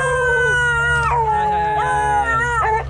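Hunting dogs howl and whine together in long wavering, sliding cries that fill the whole stretch, loud and close, with no talk over them.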